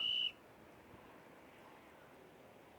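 A referee's whistle at a fishing competition gives one short, loud, steady blast at the very start, then cuts off to quiet outdoor ambience.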